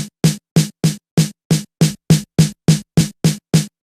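An EQ-filtered snare drum sample repeats twelve times at an even, quick tempo, each crack sharp and dry with silence between strikes.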